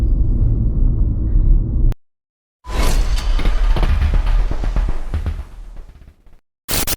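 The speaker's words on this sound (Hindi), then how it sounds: "इधर यहाँ पे बहुत तेज आंधी आ रखी है" Strong windstorm buffeting a stopped car in Ladakh near Siachen, loud broadband gusting and roaring rumble with a sudden cutout, then harsh rustling bursts and a final loud blast.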